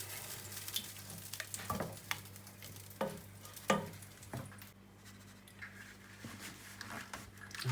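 Whole black masoor dal being stirred in a pan, with soft scraping and tapping strokes over a faint low sizzle, close and quiet, no talk.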